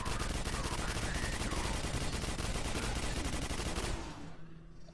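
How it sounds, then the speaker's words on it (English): Rapid automatic gunfire from a weapon in the shooter game Quake 4, a dense loud stream of close shots lasting about four seconds, then cutting off to quieter game ambience, with no talking. "Let me use this gun, whatever this is."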